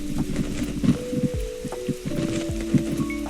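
Steady rain in the video game Lyca, a patter of drops on surfaces with scattered soft thuds, alongside a layer of tonal game music.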